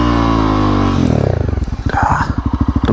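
A Honda CRF250L motorcycle spinning in snow revs high and smooth, then breaks into a close, rapid pulsing engine chug as the rear wheel churns for traction.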